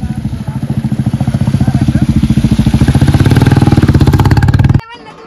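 A motorcycle engine runs close by with a loud, rapid, even thumping putter that builds slightly in pace before cutting off abruptly near the end.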